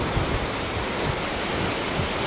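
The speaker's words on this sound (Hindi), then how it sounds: "तो ये देखिए जो है पानी जो है वो सोन नदी का जो है इस तरह से बराज से बाहर आ रहा है" Son river water rushes out through the Indrapuri Barrage in Bihar, a steady, loud, close roar of churning flow that holds unbroken throughout, with no voices.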